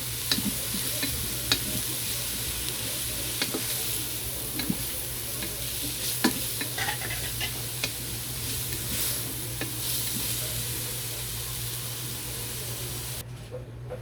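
Steady close sizzling of food cooking in a pan on a home stove while a pot of water heats to a boil, with faint scattered clicks and stirring over a continuous hiss and low hum, no talking.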